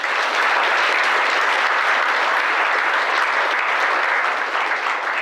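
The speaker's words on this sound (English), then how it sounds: "Give him a round of applause." Sustained applause from a large audience at an outdoor Veterans Day ceremony in Fort Walton Beach, Florida, a dense even clapping that holds steady and loud for the full stretch with no talk over it.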